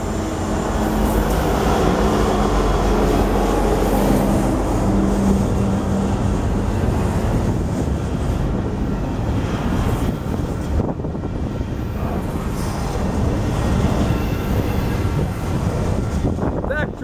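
Eastbound Union Pacific intermodal freight train with locomotives 2648, 4915 and 4031 rolling past, a steady loud rumble of wheels and cars continuing without break.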